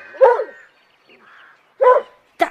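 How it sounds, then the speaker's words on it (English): A dog in an audiobook story gives a few short, loud barks close by, with brief pauses between them and a faint softer sound in one gap. "No, Scamper would have barked"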